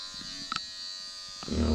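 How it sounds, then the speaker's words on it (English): An electric shaver buzzes steadily while trimming a man's nose, a thin constant hum broken by a few brief contact clicks, then a louder, fuller burst of buzzing at the end. "We're gonna shave a brother's nose."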